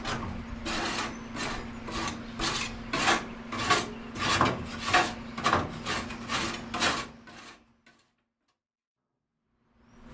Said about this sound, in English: I'm going to go ahead and start scrubbing on this and get the majority of this off